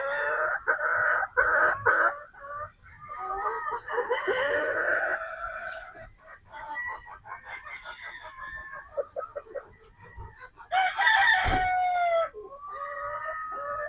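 Sweater gamefowl pullets and roosters on a game farm, with repeated nearby crowing and clucking that overlap one another, one loud crow standing out near the end.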